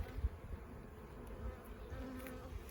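Honey bees buzz during an inspection of an overwintered hive, a low, continuous droning hum close by with faint wing flutters and no talk.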